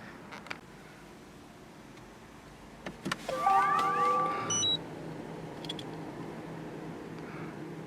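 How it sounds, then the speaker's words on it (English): Electric window motor of a 2019 BMW i8 Roadster whirring for about two seconds as the glass lowers, close and fairly quiet, preceded by a couple of soft clicks in a still cabin. "you can lower this window if you want"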